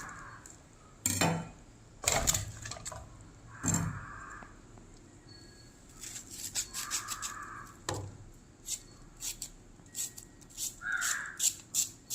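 A knife chops through taro stems against a board in sharp, irregular strikes, first spaced apart, then quicker, lighter cuts; close and clear, with no talking.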